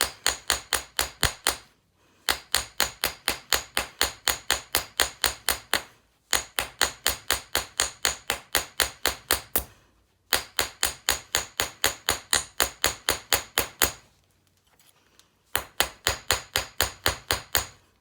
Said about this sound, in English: At any point, you can turn that over and hit that with your chasing hammer on the other side, just to kind of give it back to its shape